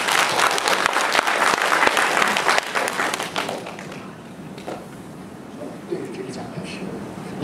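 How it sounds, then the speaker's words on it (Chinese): An audience applauds at a university alumni association annual conference, with dense clapping that gradually fades, while a voice talks over it. "请大家掌声有请下一位演讲嘉宾"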